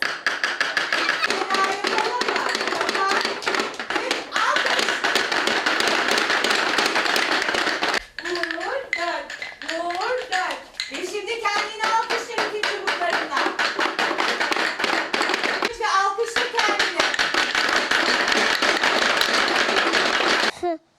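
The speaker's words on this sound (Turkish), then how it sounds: "Çubuklarımızla alkış yaparsak nasıl yaparız?" Children at a mother-and-child education centre tap rhythm sticks together in a classroom: a dense, continuous clatter of quick wooden clicks, with a brief lull partway through, while voices talk and sing over it.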